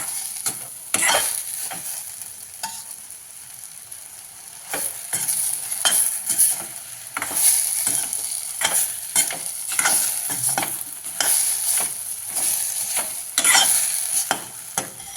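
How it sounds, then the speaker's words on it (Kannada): Ridge gourd fries with lentils in a hot pan, a steady loud sizzle broken by repeated scraping strokes of a spoon stirring through the pieces, close up and without speech. "ಚೆನ್ನಾಗಿ ಹುರ್ಕೊಂಡ್ಮೇಲೆ ಅದರೊಳಗೆ ಬೇಳೆ ಜೊತೆಲಿ ಹುರಿದು ಚೆನ್ನಾಗಿ ಉಪ್ಪು ಹಾಕಿ ಬೇಯಿಸ್ಬೇಕು ನಾವು"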